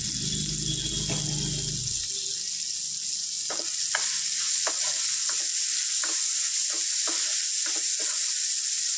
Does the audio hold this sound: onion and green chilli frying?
yes